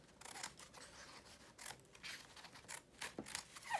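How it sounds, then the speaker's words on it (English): Scissors trimming the extra edge off a woven paper Navajo rug, producing soft repeated snips and scraping cuts, close but faint, in a quiet room. "I'm going to go ahead and trim off this extra part."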